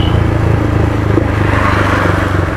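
A Yamaha MT15 motorcycle engine runs unevenly as it starves of petrol during a mileage test, a close, loud, chugging idle whose pulsing beat wavers and stumbles throughout.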